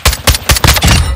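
Loud, close automatic gunfire from Call of Duty: Modern Warfare II, four sharp bursts in quick succession and then a sustained stretch of continuous shooting.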